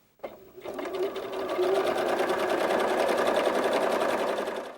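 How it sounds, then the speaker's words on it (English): A sewing machine hems the front edge of a doll jacket, one continuous close, loud run of rapid stitching that starts abruptly and holds steady for several seconds. "we're going to start by hemming straight down the two front sides"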